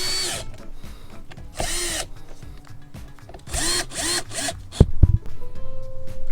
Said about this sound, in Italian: Riavvito sempre prima a mano e poi concludo con l'avvitatore